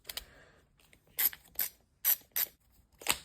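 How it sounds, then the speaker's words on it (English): Ratchet clicks from a Milwaukee ratcheting screwdriver with a rubberized dual-material grip, heard as several short, sharp bursts of clicking spaced through a quiet room, close and distinct with no talk. "The ratcheting function seems to be nice and smooth."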